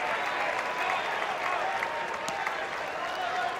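A college baseball crowd at a 2014 Super Regional game between Texas and Houston applauds after a long at-bat; loud, continuous clapping and crowd noise holding steady throughout.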